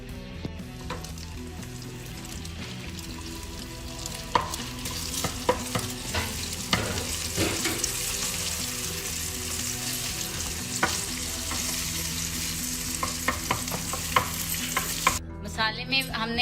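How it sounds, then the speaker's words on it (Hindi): Egg frying in a pan for Singaporean rice, with a steady broad sizzle and occasional scrapes and stirring clicks throughout, close and moderately loud, no talking. "हम चावलों के लिए अंडे को फ्राई कर लेंगे कुछ इस तरह से"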